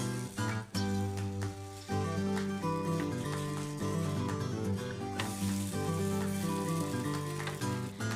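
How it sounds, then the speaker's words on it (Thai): Pumpkin coconut rolled wafer batter sizzles steadily in a nonstick pan, a continuous close frying hiss under background music. "สุกด้านนึงแล้วนะคะ ก็จะกลับด้าน อีกด้านนึงนะคะ เพราะว่าแป้งจะได้สุกทั่วทั้งสองด้านนะคะ"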